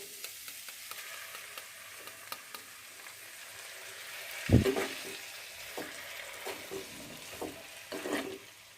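Washed green gram beans fry quietly in a pan alongside pork and banana flower, with a soft, low sizzle and gentle stirring scrapes. One dull knock sounds midway, followed by a few faint clicks, and no one speaks.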